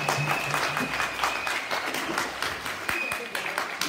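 A church congregation bursts into sustained applause, a dense wash of clapping that holds for several seconds, with voices mixed in beneath it.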